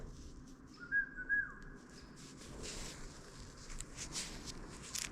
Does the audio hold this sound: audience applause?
no